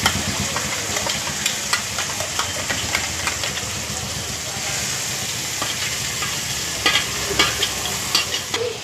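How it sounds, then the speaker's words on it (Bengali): Dahi katla masala stirred in a pan just after water goes in, with a steady wet sizzle and repeated scraping strokes running throughout, close and fairly loud, no talking. "দিয়ে ভালোভাবে নাড়াচাড়া করে নিতে হবে।"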